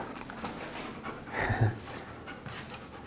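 A dog pants softly in bursts during obedience training, close by but low, with faint rustling in the background and no talk.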